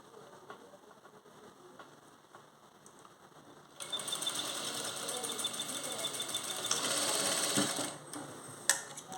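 Sewing machine stitching an embroidered blouse, a quiet start then a steady rapid mechanical whir from about four seconds on, with a brief clack near the end.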